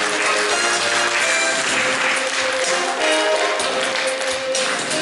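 An audience claps steadily at an awards ceremony at a library forum in Tikhvin, Leningrad region, a dense, even wash of applause from a hall crowd that holds for the full stretch.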